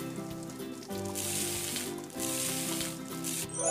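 Boiled corn sizzles and fries in oil in a pan within a restaurant cooking video game, a steady bright crackle that swells twice, running continuously over a soft tonal game music bed with no talking.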